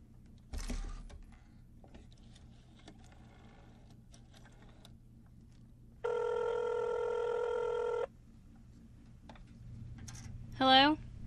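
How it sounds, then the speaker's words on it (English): A telephone bell rings steadily for about two seconds in an audio theater performance, a bright electric ring standing alone amid quiet stage ambience, with a few soft knocks and a brief squeak before and after. "Get me Filani on the phone"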